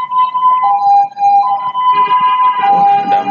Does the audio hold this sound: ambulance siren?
yes